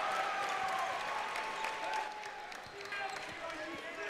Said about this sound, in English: You can hear the fans the fans cheer a lot